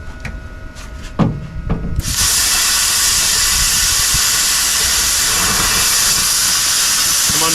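An Arccaptain CUT50 plasma cutter slices through metal pieces: a few sharp clicks, then a loud, continuous hiss that holds steady to the end.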